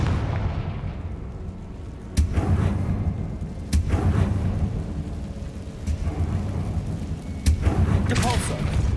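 Confringo fire curse blasts in Hogwarts Legacy, sharp booming cracks landing several times at uneven intervals over a rumbling battle bed with voice sounds.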